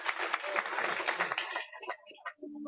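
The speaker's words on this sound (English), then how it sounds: "Ladies and gentlemen, a round of applause for Mike Bowie." An audience claps to welcome a speaker at a general membership meeting, a dense burst of applause for about a second and a half that thins out and fades, with a voice coming in near the end.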